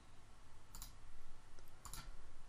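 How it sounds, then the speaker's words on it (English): A computer mouse gives two sharp, isolated clicks about a second apart, close but faint over a steady background hiss, with no talking. "And I will click on these buttons."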